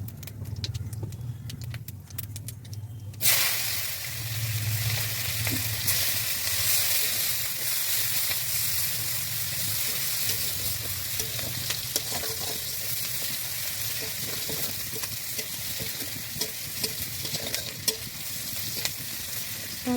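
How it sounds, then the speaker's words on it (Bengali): Panch phoron spices hit hot oil in a pan and burst into a loud, steady sizzle and crackle after a quiet start, with faint scraping along the way. "এবার আমি তেলে পাঁচফোড়ন দিয়ে দেবো।"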